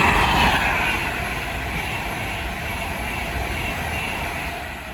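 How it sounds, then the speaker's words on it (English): An Avanti West Coast Class 390 Pendolino electric train passes on the West Coast Main Line at Lichfield Trent Valley, a steady broadband rush of wheels and air that is loudest at first and then slowly fades. "The next train to pass by is an Avanti West Coast Class 390 Pendolino."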